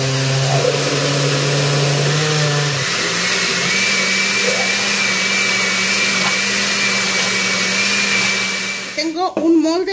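A kitchen blender whirs loudly and continuously, mixing cheesecake batter with a spoonful of cornstarch, its motor pitch shifting slightly before cutting off near the end.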